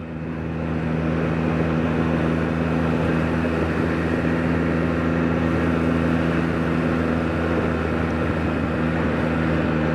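A 2024 Yamaha MT-09 motorcycle engine drones steadily while riding, a continuous loud hum under heavy wind rush with no talking.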